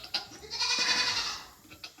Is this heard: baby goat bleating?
yes